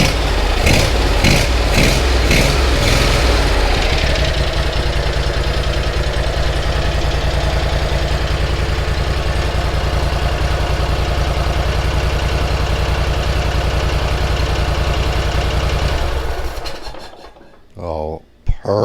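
Zero-turn mower engine running after carburetor repair, a loud, close, steady idle that starts with a few rhythmic revs, holds evenly for a long stretch, then shuts down near the end.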